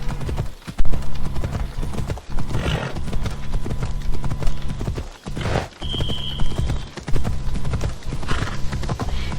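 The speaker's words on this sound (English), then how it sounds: "I think this is the right time to use my horse." A horse in Assassin's Creed Odyssey clip-clops along at a steady trot, hoof strikes close and rhythmic, with a brief whinny partway through and game ambience underneath.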